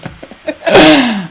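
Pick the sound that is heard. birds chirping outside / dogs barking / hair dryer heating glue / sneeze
sneeze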